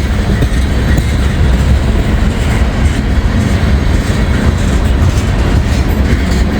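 A train rolls steadily along the rails, its loud continuous rumble and faint clickety-clack of wheels filling the whole stretch as it gathers speed.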